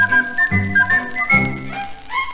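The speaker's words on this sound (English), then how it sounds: "here's a pretty tune I always whistle when I'm blue" A person whistles a bright, tuneful melody over musical accompaniment in a 1950s-style pop song, the whistle sustained and clearly in front across the whole stretch.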